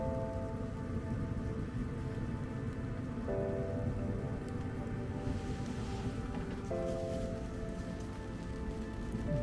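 A small stream runs beside a winter camp with a truck tent during a snowstorm, giving a steady, even rush of flowing water that stays at one level throughout, with no voices.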